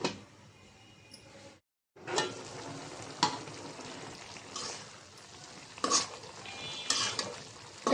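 Vegetable stems and potatoes being stirred in a pan while frying with spices, a steady sizzle broken by scraping stirs and occasional clanks of the utensil against the pan, with a brief silent gap near the start.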